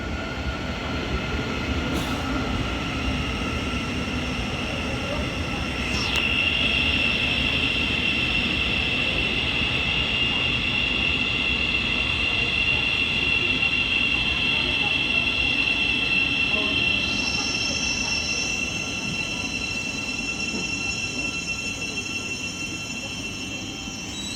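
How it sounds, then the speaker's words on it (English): A Great Northern Class 700 electric train rolls steadily into platform 1 at Hitchin station, a continuous low rumble of wheels under a bright, sustained high-pitched motor whine that swells midway through. "there is the Great Northern service operated by Class 700 coming to platform 1"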